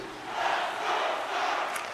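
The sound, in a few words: hockey arena crowd cheering, video game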